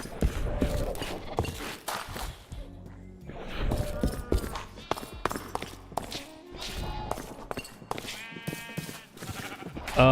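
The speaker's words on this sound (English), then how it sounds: "I've let all of the sheep in here." Sheep bleat repeatedly amid busy, cluttered sounds from the modded Minecraft game RLCraft, several animal cries overlapping with thumps and clatter throughout.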